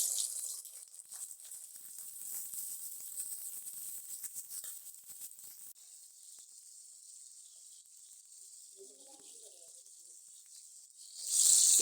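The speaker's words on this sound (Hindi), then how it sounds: "तेल हमारा थोड़ा सा गर्म हो गया, एक एक करके पैटी डाल लेते हैं" Beef burger patties sizzle in hot oil in a non-stick pan over low flame, a steady hissing crackle that holds throughout and swells louder at the very end.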